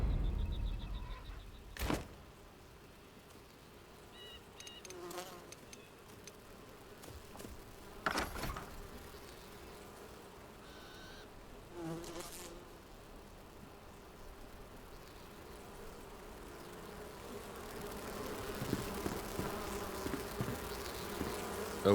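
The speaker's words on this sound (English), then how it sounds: "Why did we have bees here?" Bees buzz in the video game Enshrouded, a steady droning hum that swells and fades as they move around, with a few sharper clicks and thumps from gameplay scattered throughout and no talking.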